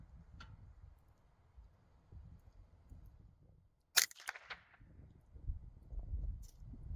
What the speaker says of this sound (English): I'm going to take a second shot for verification